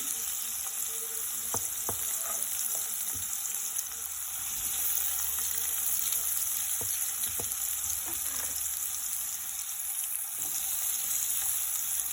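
Chopped onion frying in oil in a kadai, a continuous bright sizzle with occasional soft clicks of stirring throughout, no voices over it.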